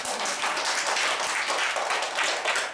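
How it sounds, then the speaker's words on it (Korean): Audience clapping at a Buddhist dharma talk in Ulsan, a dense, steady, continuous patter of many hands filling the room, fairly loud and even throughout with no voice over it. "박수 한번 안 쳐?"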